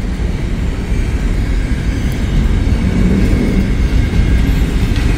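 A long freight train rumbles past in Hamilton, a loud continuous roar of rolling cars with steady low-end drone and no pause throughout.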